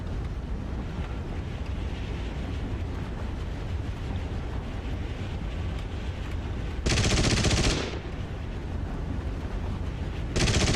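Short bursts of aircraft machine gun fire during a dogfight in a flight combat video game, two sharp rattling volleys cutting over a steady roaring wind and engine drone, no voices.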